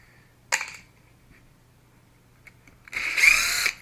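A power driver fitted with a 2 mm bit backs out the retaining screws on the pumpkin of an RC AX10 axle: one short whir, a quiet pause, then a longer, louder burst of driving close by with no talk.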